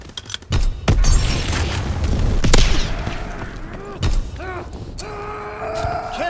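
An aircraft strafing run in a military video game, with loud booming impacts and bursts of gunfire spread across the clip among whooshing game effects and radio chatter sounds.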